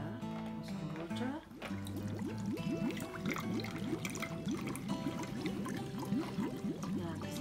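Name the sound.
pouring water for homemade lava lamp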